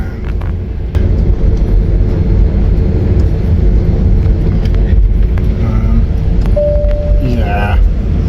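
Steady low rumble of an airplane cabin during takeoff, a constant roar that swells after the first second and holds for the rest of the clip, with a brief rising tone near the end.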